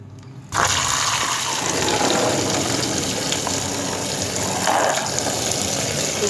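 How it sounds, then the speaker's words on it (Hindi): Water runs and pours steadily while peas are rinsed after a turmeric-water soak, starting abruptly after a brief silence and continuing loud and close throughout with slight surges. "इस तरह हल्दी वाले पानी से भी हम अच्छी तरह मटर को धो लिए।"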